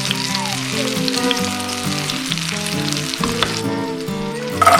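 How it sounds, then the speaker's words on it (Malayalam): Small shallots and a little onion sauté in a pan for karimeen (pearl spot fish) masala, with a continuous crackling sizzle playing under melodic background music. "ഇത് പൊള്ളിക്കാൻ വേണ്ടിയിട്ട് അവിടെ കുറച്ച് ചെറിയ ഉള്ളിയും ഒരു ചെറിയ സവാള എടുത്തിട്ടുണ്ട്. അതൊന്ന് വഴറ്റിയെടുക്കാം."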